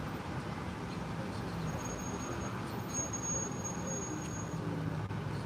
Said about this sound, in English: Just sitting in some heavy traffic in the city of San Francisco